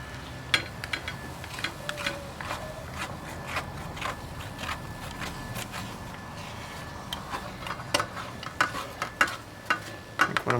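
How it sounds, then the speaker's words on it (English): Onions frying in a mess kit pan, a soft steady sizzle under repeated sharp scrapes and ticks of a utensil stirring, close and moderately quiet, with no talk. "I can smell the onions cooking."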